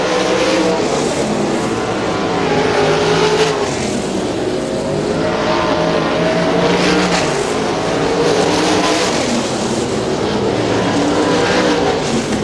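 Wing sprint cars roar around the dirt oval at Butler Battlegrounds in Quincy on the final lap of a heat race, a dense, continuous wall of loud engine noise with no break.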